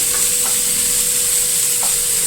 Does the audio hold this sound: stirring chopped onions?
yes